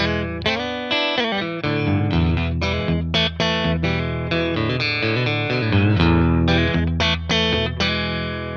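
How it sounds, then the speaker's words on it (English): Guitar through a Boss Katana 100 1x12" combo amp on its clean Twin-style setting, chords and single notes played continuously with a slightly driven, full tone and no voices. "this sounds to me like an American twin speaker 100-watt amp"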